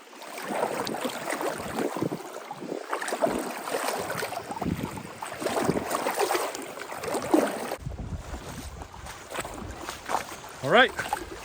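Water sloshing and splashing as someone wades through a deep creek during gold prospecting in elk country, close irregular surges with wind buffeting the microphone and occasional speech.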